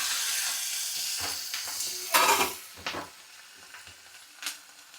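Dried red chillies and curry leaves frying in hot oil on a home stove for a healthy tiffin, a steady close hiss and sizzle with a few louder crackling bursts and stirring clatter.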